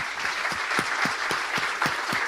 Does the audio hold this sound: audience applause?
yes